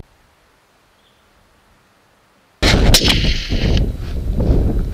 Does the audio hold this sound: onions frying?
no